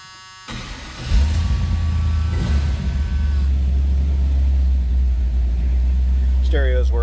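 A 1979 Chevrolet Camaro restomod starts up close and loud, then settles into a steady, deep rumbling idle that holds throughout. A chirping electronic sound appears near the end.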